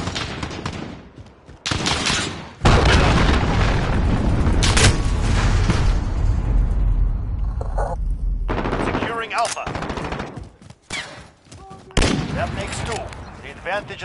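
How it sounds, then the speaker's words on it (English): Cruise missile strike explosions in a video game, heavy booming blasts and rumbling impacts mixed with rapid gunfire, loud and close, with sharp bursts dropping away in between. "Enemy cruise missile."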